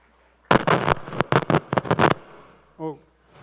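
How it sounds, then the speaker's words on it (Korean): A short burst of audience clapping at a Catholic retreat-house Holy Spirit seminar, loud and close for about a second and a half, then stopping abruptly before a single brief voice. "박수 한번 쳐주시고"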